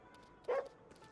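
A single short dog bark in Ghostwire: Tokyo, one brief yip-like bark at moderate loudness with faint game ambience around it.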